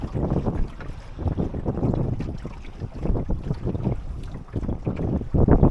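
Steady wind gusting across the microphone aboard a sailing boat preparing to tack, with a broad continuous rush of air and water noise throughout, loud and close, no talking.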